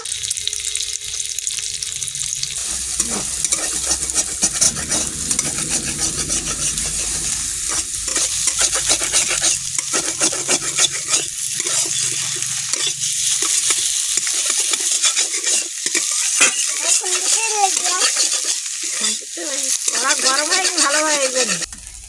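Kohlrabi and egg cooking in a pan, a continuous loud sizzle of frying with repeated scraping stirs of a spatula, and occasional voices in the background.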